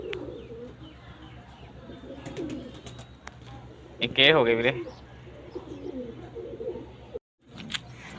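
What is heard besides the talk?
pigeons cooing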